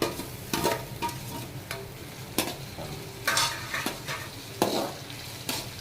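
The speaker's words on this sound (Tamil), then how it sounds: "பூண்டு நல்லா வேகணும் பாருங்கள் பூண்டு பாதி பாதி விழுந்திருக்கு அந்த ஸ்டேஜில் இஞ்சி போட்டுக்கலாம்" Garlic fries in hot oil for a Kerala-style fish pickle, giving a soft, steady sizzle. A spoon scrapes and clinks against the pan in repeated strokes as it stirs, and nobody speaks.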